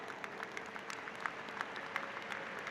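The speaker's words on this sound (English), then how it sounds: "Let's have a round of applause for the specialists." An audience at a university school of education convocation claps steadily, a dense, even patter of many hands heard from a moderate distance with no voices.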